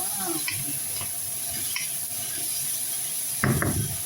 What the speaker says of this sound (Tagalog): At ilagay na natin itong atirang adobo.